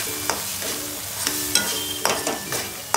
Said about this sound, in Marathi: आणि पनीर मसाला टाकते मी थोडं। ते मस्त असं परतून घेऊ आपण।